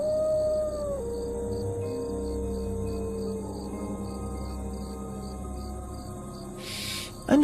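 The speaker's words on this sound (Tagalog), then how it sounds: "may marinig silang mga alulong ng aso" A long, wavering dog howl rises and slowly falls, distant and mournful, with crickets chirping steadily in the background of a quiet night.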